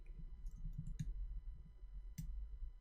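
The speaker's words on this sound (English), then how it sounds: "I'm literally just clicking and dragging" A computer mouse gives a few sparse, crisp clicks while a selection is drawn in photo touch-up software, close and quiet against a faint low hum.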